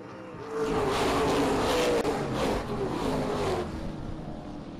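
Race cars roar hard together at the green flag start at Springport Motor Speedway, a loud, dense wall of engine noise that rises as the field accelerates away and stays strong throughout.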